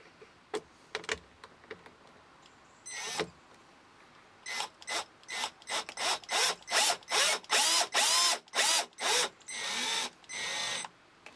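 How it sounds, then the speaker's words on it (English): A drill driver drives a screw into a window frame while a restrictor is fitted, sounding as a close, loud run of short bursts. The motor whirs in rapid on-off pulses that grow longer toward the end. "And I'm just going to drive that in using a drill driver."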